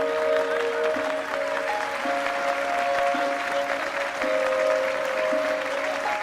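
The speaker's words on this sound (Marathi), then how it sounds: "टाळ्या." Steady, moderately loud applause from an audience at an award ceremony for a relief sculpture art competition, continuing evenly throughout with a slightly distant feel.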